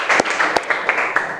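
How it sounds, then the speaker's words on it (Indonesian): Classroom students clap their hands together in a short, fairly close burst of applause with a few sharper individual claps standing out. "tepuk tangan dulu kita untuk suara kita ya"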